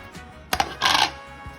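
Cut-up chunks of Velveeta-style cheese dumped into a pot of broccoli cheese soup, giving a couple of quick soft knocks followed by a brief wet sloshing burst, close and fairly quiet.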